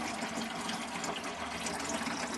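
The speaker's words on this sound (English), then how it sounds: "Now in the bathroom, where we have the little hand sink, when we turn that on, the boiler kicks in, we have hot water" Water runs steadily from the tap of a small bathroom hand sink in a motorhome, a constant close hiss and splash with no break.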